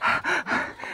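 Heavy, rapid panting from a person worn out after a climb, loud and close, with sharp breaths pulsing in quick rhythm and no other sounds.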